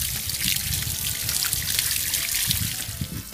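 Water poured generously onto a newly planted jabuticaba peluda de cruz seedling, a continuous splashing trickle into soil lasting throughout, fairly loud and close; no speech.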